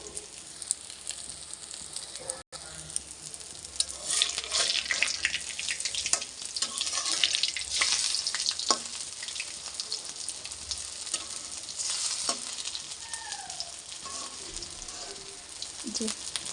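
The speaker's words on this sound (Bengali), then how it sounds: "এরকম করে ওই পিসটা ভেজে তখন তুলে নেব" Pieces of dhoka lentil cake frying in hot oil give a steady, close sizzle lasting throughout, with scattered crackles, spatters and a few soft scraping stirs.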